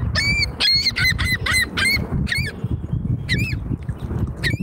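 Gulls give repeated loud, nasal squawking calls in quick bursts, several birds close by, calling over a low rumbling background.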